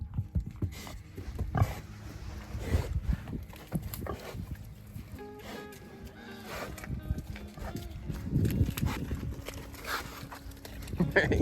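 Horses on a pig farm move about with scattered hoof thuds and clip-clops, amid other animal noises and people talking nearby.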